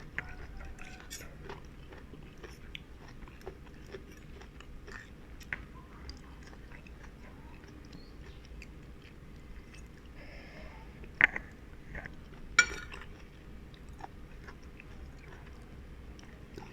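Someone eats spicy food with crab up close, with quiet, sporadic chewing and occasional sharper crunches and clicks over a low background.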